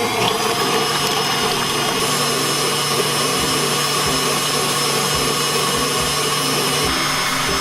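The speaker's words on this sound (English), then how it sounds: "You can hear the mixer in the background because it's going and getting our egg whites" A stand mixer whips egg whites at medium-high speed for Italian meringue buttercream, giving a constant loud motorized whir with a steady whisking rush that holds unchanged throughout.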